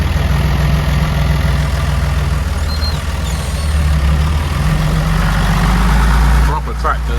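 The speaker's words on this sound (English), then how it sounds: "Proper tractor this. They don't make them like this anymore." An old farm tractor engine idles steadily at close range, a loud, continuous low rumble that dips briefly near the end.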